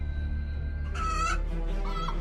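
A cartoon rooster gives short clucking calls over a steady low background hum, with no talk.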